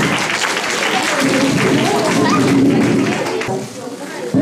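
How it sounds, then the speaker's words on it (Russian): Audience at a children's recital concert claps in a sustained burst for several seconds, loud and close, with voices in the room before the clapping fades near the end. "Давайте аплодисменты!"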